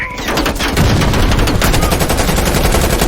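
Rapid automatic machine gun fire from Call of Duty Black Ops Cold War rattles on loud and nearly continuous, dense bursts overlapping without pause for the whole stretch.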